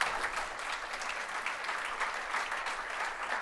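Sustained applause from an audience at a French political assembly closing speech, a dense even wash of many hands clapping throughout, fairly distant and moderate in level.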